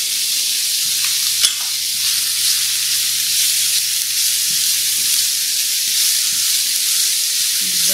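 Chopped onion with a little finely chopped seedless red chili frying in a pan, giving a steady, even sizzle with a soft hiss throughout, plus an occasional faint clink of stirring.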